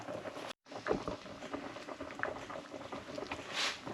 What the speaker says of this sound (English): Now it's been boiling for about 3-4 minutes.